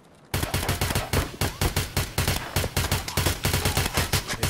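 Rapid automatic gunfire in Escape from Tarkov starts abruptly after a brief quiet moment, then rattles on in loud, evenly spaced bursts of shots.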